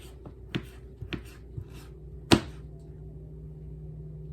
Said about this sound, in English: cut it in half, cut it down the long way, and then we want like half moon shapes